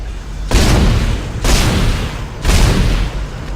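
Three heavy gunshots from a weapon in the video game Dead Space, fired at an enemy at roughly one-second intervals, each a loud booming blast with a lingering tail, no voices over them.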